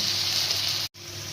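Onion with tomato, salt and turmeric sizzles loudly in hot oil for a masoor dal tadka, a steady close frying hiss broken by one brief cut of silence.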